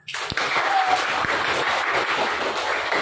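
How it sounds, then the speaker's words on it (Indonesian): A school class applauds after a lesson, a steady, even wash of many hands clapping together, fairly close and continuous for several seconds. "kita berikan tepuk tangan"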